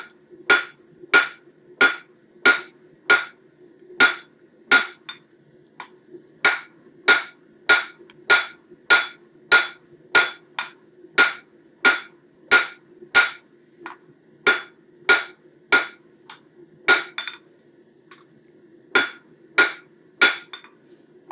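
Hot metal being forged with a hammer, flattened and drawn out into a bird feeder hanger: sharp, ringing hammer blows struck in a steady, even rhythm, about two dozen in all, with a few brief pauses.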